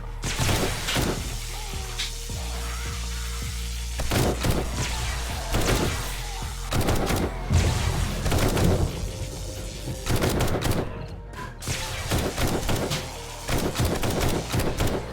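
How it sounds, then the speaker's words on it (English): Rapid gunfire cuts down a zombie horde in the survival game 7 Days To Die, with loud, close shots in irregular bursts and volleys repeating throughout. "Now I'm just shooting down the center because I don't aim very well"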